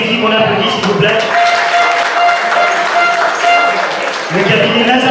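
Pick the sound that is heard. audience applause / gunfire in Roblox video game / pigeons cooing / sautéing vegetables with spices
audience applause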